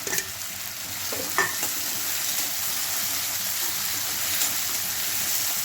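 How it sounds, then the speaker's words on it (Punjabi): Chopped green chillies with salt fry in a pan under a steady, dense sizzle that runs the whole time. Occasional stirring scrapes and a few brief clinks sit on top. "ਥੋੜੇ ਜਿਹੇ ਨਮਕ ਆਪਾਂ ਫਰਾਈ ਕਰ ਲੈਂਦੇ ਹਾਂ ਨਾਲ ਇਹ ਪਾ ਰਹੀ ਹਾਂ ਦੋ ਹਰੀਆਂ ਮਿਰਚਾਂ ਕੱਟੀਆਂ ਹੋਈਆਂ"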